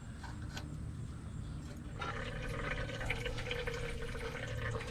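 Transmission fluid pours into the transmission pan of a 2024 Duramax Denali pickup, a soft continuous trickle over a low engine idle that turns louder and fuller midway through, with no talking.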